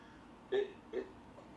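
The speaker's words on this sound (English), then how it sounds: "I've got hiccups" Two quick, close hiccups about half a second apart, small and voiced, against a quiet room background.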